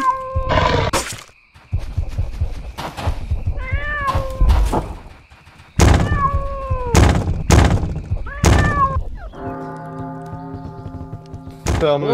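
Cartoonish cat meows in a werewolf party video game, several drawn-out, pitch-bending cries scattered among loud game effects and thumps, with a sustained synth-like chord near the end.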